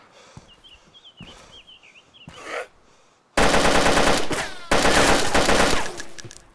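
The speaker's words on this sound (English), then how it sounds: "He's got like a machine gun or some shit." Machine gun fire in the DayZ video game, a loud sustained burst of rapid automatic shots after a quieter stretch of faint footsteps and whistling tones.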